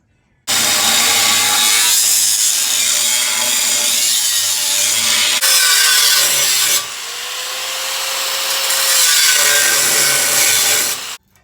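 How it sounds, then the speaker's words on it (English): A cutoff wheel grinds loudly through the exhaust boom tube of a 1988 NASCAR Winston Cup car, a harsh sustained screech that shifts pitch partway through as the cut progresses, then stops abruptly. "we're going to do it with our cutoff wheel"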